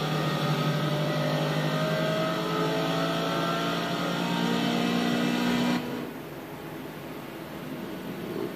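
A race car engine in Forza Motorsport 2 at Silverstone's National West circuit holds a loud, sustained roar with harmonic whine for about six seconds, then drops abruptly to a quieter, muffled drone.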